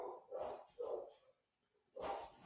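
A dog barks three times, the first two close together and the third after a short pause, faint and somewhat distant, with no talk over it.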